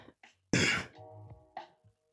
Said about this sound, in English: My bad, I had to clear my throat.